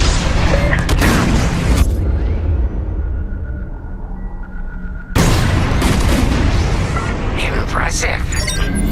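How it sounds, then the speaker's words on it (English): Heavy bomb blasts in a Star Wars Squadrons starfighter raid, a thick roaring burst of booming explosions that drops briefly to a low rumble, then erupts again loud and sustained, with game voices over it. "On my mark, it's bombs away."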